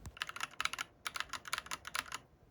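Rapid clacky typing on an ilovbee i87 mechanical keyboard with stock Gateron switches, crisp close keystrokes in quick uneven bursts with brief pauses, heard alone.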